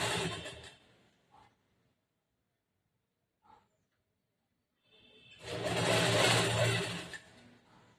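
A sewing machine stitches a plain blouse with lining in a tailoring class, running in a short whirring burst, pausing through near silence, then whirring again for a longer, louder stretch.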